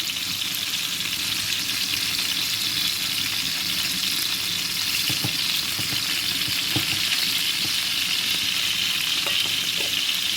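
Steady, loud crackling sizzle of fish frying in hot oil with garlic, continuous throughout with occasional louder pops and spatters.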